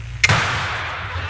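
A magic power burst goes off in a 1989 Filipino fantasy film, a sharp single boom followed by a long hissing, crackling rumble that fades slowly, loud and close.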